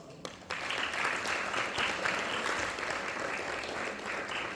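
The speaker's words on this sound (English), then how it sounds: "Big round of applause." Audience applause for a student receiving the Tattvam Sadhana Award at a Carnatic music school's annual day, steady clapping from a crowd sustained throughout after a brief quiet start.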